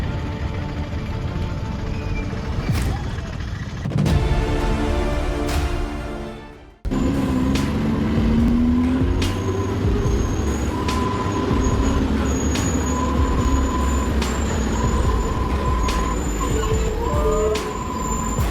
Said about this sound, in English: A giant FAW JH6 460 horsepower tractor, laden with 60 tons of heavy cargo, was slowly crawling down the steep slope